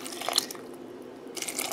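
Water being poured over fresh garden rose petals in a pot, quiet dripping and splashing at close range in two short bursts with a lull between them.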